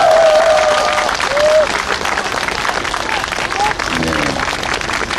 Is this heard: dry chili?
no